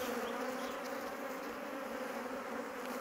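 Honeybees swarm around their hives, a dense, even buzz that holds steady and fairly loud for the whole stretch, with no voices over it.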